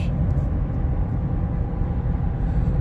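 A Chevy Colorado ZR2 Bison truck running, a steady low engine rumble and broadband road noise heard from inside the cab, continuous and even throughout with no talk.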